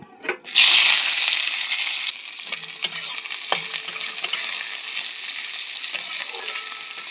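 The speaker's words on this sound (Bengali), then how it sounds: "কেটে রাখা পেঁয়াজ কুচিটা আমি দিয়ে দেব" Chopped onions drop into hot oil with a loud, sudden sizzle that then settles into steady, close frying, broken by scattered clicks and scrapes of stirring.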